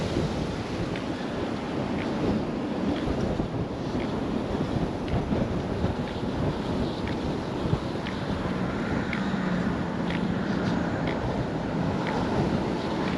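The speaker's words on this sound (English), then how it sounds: "Still walking right into the wind." Gusty wind blows hard into an outdoor microphone during a walk, a steady, loud, roaring rush with slight swells and no pauses.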